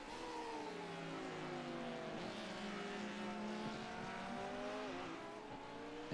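Race car engine at the Spa Francorchamps 12-hour endurance race, droning steadily and close with shifting pitch lines, rising and dipping slightly as the driver dips the clutch, with a faint tire-squeal edge throughout.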